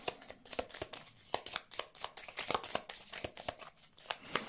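Tarot cards shuffled and slid over one another in quick, uneven flurries of crisp papery rustles and snaps, close and fairly loud, with no voice over them.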